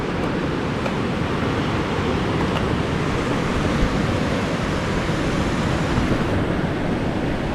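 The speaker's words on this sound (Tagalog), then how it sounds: "Sunod-sunod naman ang alon," Ocean waves break one after another in a continuous, loud wash of surf, with wind buffeting close to the microphone and no voices.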